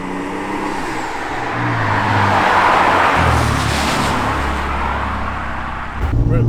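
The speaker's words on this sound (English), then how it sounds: "Guys, I am behind the wheel of a Supra." A 400bhp Toyota Supra with a 2JZ engine driving on the road, a loud, steady engine drone that builds in the middle under acceleration, then eases back, with a louder knock near the end.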